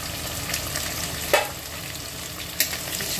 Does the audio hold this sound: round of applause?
no